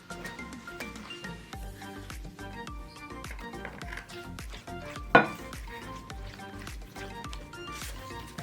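A spoon stirs a paste of kinnow orange and eggs into cake batter in a bowl, giving soft wet squishing with light clinks and one sharp clank against the bowl, with a faint voice in the background.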